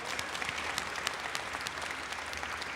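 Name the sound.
audience applause at a press conference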